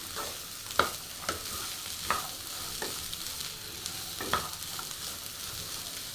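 Green beans sizzle steadily as they fry with onion and masala, while a spoon scrapes and stirs the pan in several distinct strokes.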